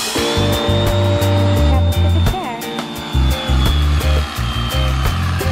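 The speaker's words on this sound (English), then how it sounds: "So the electric knife's working great." An electric knife slicing through a thick memory foam mattress, giving a loud, steady motorized buzz that pauses briefly and restarts several times, with strong low humming tones throughout.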